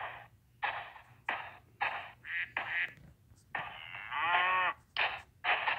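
A cow in the video game Survivalcraft moos repeatedly, a string of short, loud lowing calls in close succession, with one longer drawn-out moo in the middle, over a faint low background hum.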